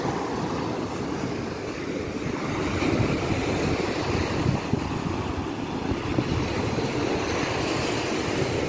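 On a windy beach in Spain, waves break steadily with a continuous broad rushing roar, heavy wind buffeting the microphone throughout, with no voices.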